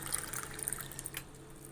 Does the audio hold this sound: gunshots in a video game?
no